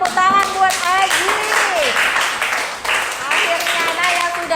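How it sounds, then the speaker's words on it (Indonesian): A classroom gives a round of hand clapping for a student who has just answered. The applause is quick and fairly close, with voices talking over it throughout. "tepuk tangan buat Aji."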